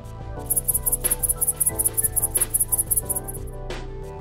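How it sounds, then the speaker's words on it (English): A grasshopper chirps in a fast, steady pulsing trill of high, sharp bursts repeating evenly, loud and close, with faint background noise underneath. "Grasshopper."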